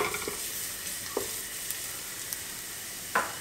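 Minced garlic sautéing in shimmering hot olive oil in a pan, a steady soft sizzle with a few brief louder crackles and pops scattered throughout, no voices.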